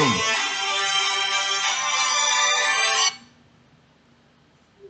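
A phone ringtone plays loudly for about three seconds as a steady bright electronic melody, then cuts off abruptly, leaving near silence with faint room hum during a chemistry lecture.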